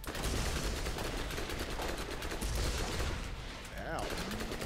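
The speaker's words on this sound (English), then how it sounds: "the fire rate's so slow in this pistol" Slow, spaced pistol shots in the video game Borderlands ring out amid dense game noise and music, each report bursting loudly without a break in the busy background, with no talk over them.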